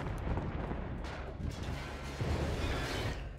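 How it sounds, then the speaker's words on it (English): Bombs exploding in the Battlefield 1 video game. A dense, rumbling barrage of blasts and booms fills the clip at a steady loudness, with no talk over it. "Bombs."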